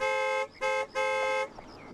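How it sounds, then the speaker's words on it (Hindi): A car horn honks three times in quick succession, loud and close, the middle blast shorter, followed by faint background noise. "अरे हॉर्न मारो ना भाई, ये कौन चल रहा है रास्ते के बीच में?"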